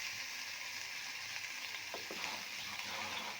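Hot oil sizzles steadily in an unwashed kadai while a village-style arum paste dish is cooked, a soft, continuous frying hiss with a few faint crackles and no talking.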